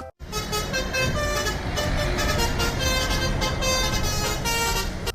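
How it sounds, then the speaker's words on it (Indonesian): A toy telolet bus plays its melodic multi-tone horn, a loud, continuous bright tooting tune that runs almost the whole time after a brief silent start. "Ada bus telolet teman-teman."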